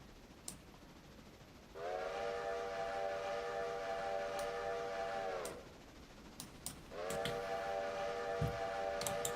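A steam locomotive in the railroad sim game Railroader sounds its whistle twice as it pulls in. Two long, steady, pitched blasts of about four seconds each, separated by a short gap, over faint background rumble.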